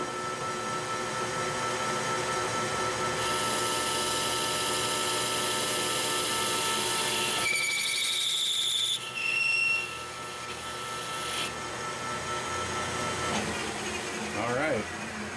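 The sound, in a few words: machining a steel press plate, taking a deep cut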